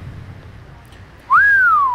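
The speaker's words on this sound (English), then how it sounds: "Mitch whistled and commented to the others." A man gives one clear whistle that sweeps up sharply and then glides slowly downward, loud and close, after a stretch of quiet background hiss.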